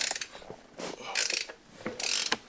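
Quick ratchet clicks in short bursts, separated by brief pauses, as bolts are tightened on a Triumph Tiger 800 motorcycle, close and fairly quiet with no voices.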